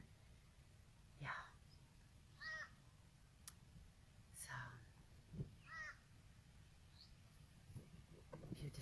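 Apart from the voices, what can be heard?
birds calling outdoors near a tree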